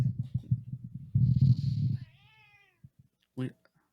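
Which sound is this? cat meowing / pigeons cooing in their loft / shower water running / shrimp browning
cat meowing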